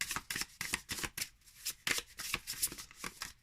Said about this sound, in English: So now I'm just shuffling real quick.